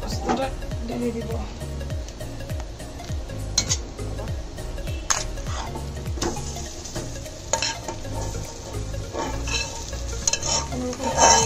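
Poppy seed paste goes into a hot pan of oil with garlic, onion and dried chillies. A spatula scrapes and clinks against the metal in a steady rhythm over a constant loud sizzle, with some talk in the background.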